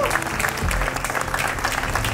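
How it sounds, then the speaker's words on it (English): Applause from an audience at an event honouring Malta's government support for blockchain, dense steady clapping filling the room, loud and close throughout. "So let's give a round of applause to them."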